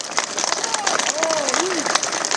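Audience applause at a political rally in Armenia, dense steady clapping from a crowd running throughout, with a voice speaking over it.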